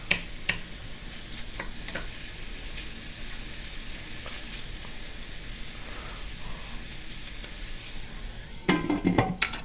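Bacon, about 10 to 12 ounces, frying gently in a skillet gives a steady soft sizzle with scattered ticks and pops, growing louder and crackling more near the end.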